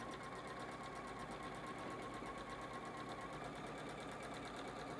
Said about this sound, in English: I rotate the fabric, drop the presser foot again, and begin sewing straight through.